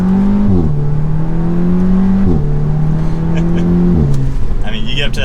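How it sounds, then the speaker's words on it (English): A 2024 Audi RS3 with a four-cylinder engine and AW exhaust drives steadily, holding a loud droning note that drops at each of three upshifts, heard from inside the car. "For a 4-cylinder with the AW exhaust, it sounds good."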